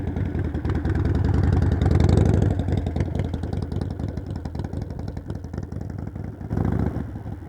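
Motorcycle engine running at low speed in a parking lot during U-turn practice, a steady mid-pitched idle with a brief swell around two seconds, loud and close with no talking.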